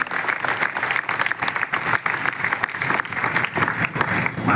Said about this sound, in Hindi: इस समाज की बेटी के लिए जोरदार तालियां बजाएं।